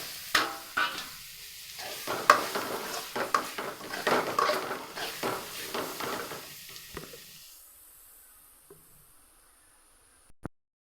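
Meal maker (soy chunk) gravy sizzling in a pan while a spoon stirs and scrapes it, producing busy clattering and frying for about seven seconds before fading to near silence, then one sharp final tap.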